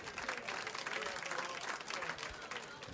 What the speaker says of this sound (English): Gets a round of applause for his 6 perfect darts to start the leg